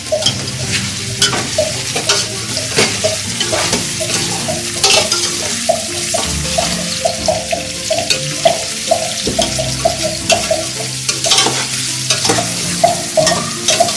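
Meat and large onions sizzle in hot oil in a pot while being stirred, with a steady frying hiss broken by repeated scraping and clinking of the spoon against the pot, close and continuous.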